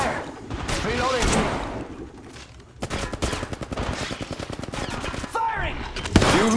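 Rapid gunfire in the mobile battle royale game Apex Legends Mobile, with bursts of automatic fire in close, dense volleys that stop and start, mixed with loud game effects and short voice lines.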